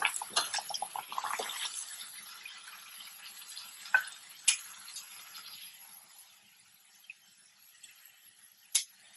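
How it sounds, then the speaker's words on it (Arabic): Eggplant fries in oil with a faint, thin sizzle, with a few clinks and taps at the start and scattered sharp clicks later, no talk. "نخلي الباذنجان بالزيت لحد ما يصير لونه ذهبي"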